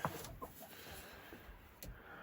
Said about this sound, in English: That's just a regular hen.